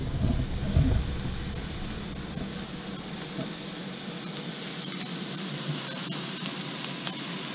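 A wagyu steak sizzles hard in a hot iron skillet, a dense, close crackling fry that swells briefly at the start, then holds steady with no talking.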